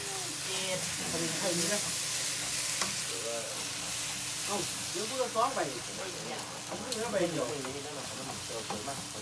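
Pad Thai sizzles and hisses loudly in a hot wok with repeated stirring and scraping, and someone talks throughout.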